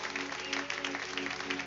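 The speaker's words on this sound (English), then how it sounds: "So let's give him a hand clap of praise as well, all right?" A church congregation gives a round of applause as praise during a 25th anniversary worship service. Many hands clap in a steady, even wash of sound that fills the room at moderate volume, with no talk over it.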